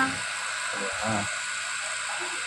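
Electric power sewing machine winding thread onto a bobbin, a steady close mechanical whir running the whole time with a slight rise midway, no talking.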